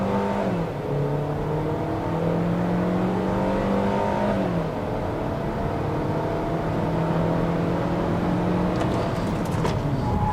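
A Hyundai Creta Ultimate with a naturally aspirated 2.0 engine accelerates from 0 to 100 km/h: a loud cabin drone rises in pitch, drops at a gear change, then climbs again steadily.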